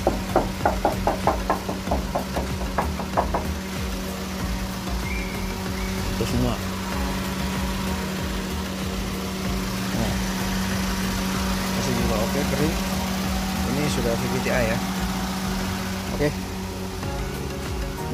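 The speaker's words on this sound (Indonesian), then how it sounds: "Ya, ini mesinnya." A Toyota Avanza G, older model, idles with a steady hum and a knocking tick, while people talk intermittently over it throughout.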